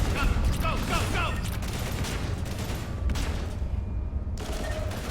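Gunfire in Mass Effect Legendary Edition, a dense continuous fusillade of rapid shots and impacts under a battle din, loud and sustained throughout, with a voice speaking briefly over it.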